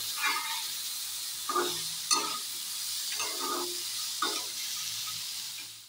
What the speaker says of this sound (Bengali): এখন সয়াবিনগুলিও ভেজে নিচ্ছি, সয়াবিনগুলিও ভেজে তুলে নেব।